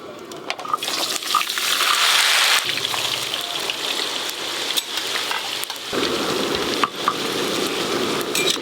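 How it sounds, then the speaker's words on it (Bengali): Potatoes fry in hot oil with a loud, dense, rain-like sizzle that swells and shifts in intensity, heard close and alone without any talk. "চিংড়ি পটলের জন্য প্রথমে আলুগুলো ভালো করে ভেজে নেব"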